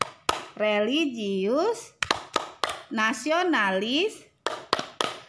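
Sharp rhythmic hand claps in a Tepuk PPK classroom chant punctuate a group of voices chanting words in unison, the claps landing in quick bursts between the sung phrases.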